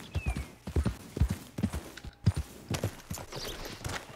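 Horse hooves in Red Dead Redemption 2 clip-clop in a steady, rhythmic walking gait, close and clear, with no talking.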